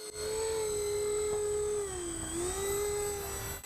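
A small ducted fan buried in the rear fuselage of a V-22 Osprey model screams steadily while the aircraft hovers, a loud, high-pitched whine with a slight dip in pitch midway before rising again.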